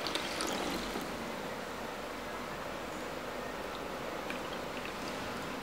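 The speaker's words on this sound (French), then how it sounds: "je verse mon eau de rose à, on va dire, à la moitié du récipient" Rose water poured through a funnel into a bottle, a steady hissing liquid stream that runs continuously at moderate level, strongest at the start, with no talking.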